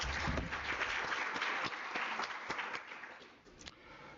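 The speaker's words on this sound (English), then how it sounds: "Can you give him another round of applause?" A seminar audience claps in steady, sustained applause that tapers off slightly toward the end.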